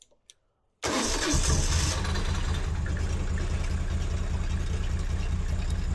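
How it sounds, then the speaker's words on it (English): A Moto Guzzi Breva motorcycle cranks and fires after a brief near-silence, then settles into a loud, steady idle with a throbbing low rumble, close up and without talk. "So, we start the motorcycle up, and let's just make sure that it runs for some minutes without an issue."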